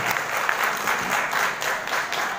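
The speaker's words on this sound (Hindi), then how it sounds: "एक बार जोरदार तालियां बजाकर इनका अभिनंदन करें" Steady, loud applause from a crowd at a poetry reading and cultural program in Mehrauli, dense clapping sustained throughout without pause.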